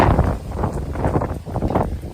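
Strong outdoor wind buffeting the microphone, a loud continuous rumble with gusty swells and no clear speech.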